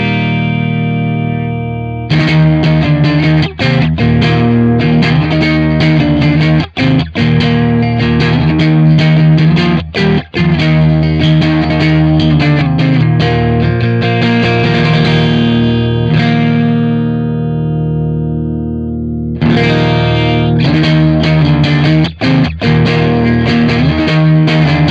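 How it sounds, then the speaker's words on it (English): Heavily distorted electric guitar through a JC Pre pedal, mid-range control turned up for a thicker midrange, plays loud sustained riffs, starting after a short quieter passage and breaking briefly near the end. "As we turn that mid-range up, we're gonna get more and more mids."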